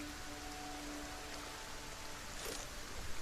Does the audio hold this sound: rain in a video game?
yes